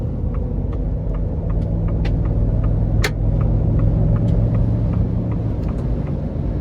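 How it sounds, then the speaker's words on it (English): A 2023 Ford F-250 Lariat Tremor with the 7.3 gas V8 accelerates, heard from inside as a steady, loud low engine rumble and road drone that holds throughout, with faint clicks over it. "I'm gonna give it some throttle here."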